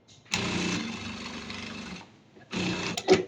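A Zoje A-8200 S single needle sewing machine runs in two bursts, a long steady stitching whir of nearly two seconds, then a short pause and a second shorter run ending in a small clack.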